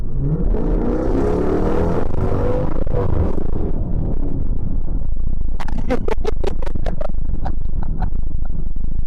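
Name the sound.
Jeep engine accelerating on the freeway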